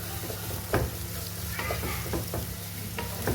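Sliced onions being stirred and sautéed in a pan while making chicken curry, a steady close sizzle broken by several scraping stirs of a spoon.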